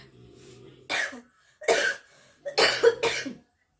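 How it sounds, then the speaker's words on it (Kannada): Four harsh, separate coughs in quick succession from one person with a sore throat, close and clear against near silence. "ನನಗಂತೂ ಕೆಮ್ಮಿ ಸಾಕಾಗ್ಬಿಟ್ಟಿದೆ"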